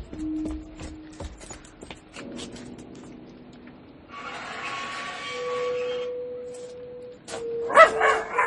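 A dog in a park gives a few short barks near the end, preceded by quieter tonal mechanical sounds and a steady hum, with no one speaking.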